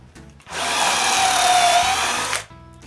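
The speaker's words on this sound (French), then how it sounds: "Je vais donc utiliser ma toupie avec un guide d'1 pouce puis une mèche pour faire des enseignes." A wood router running with a one-inch guide bushing and a 45-degree bit while cutting a chamfer, a single loud, close burst of high whining that lasts about two seconds and then stops abruptly.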